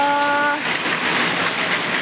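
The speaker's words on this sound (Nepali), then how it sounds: "पानी परिरहेछ" Steady rain falls outdoors in a rural Nepali setting, a dense continuous hiss, loud and close, after a brief tonal hum fades out at the start.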